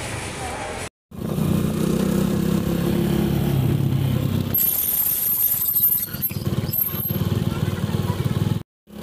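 A motorcycle tricycle engine runs close by with a steady, loud rumble for several seconds, then drops to a quieter, uneven idle broken by clicks and short gaps.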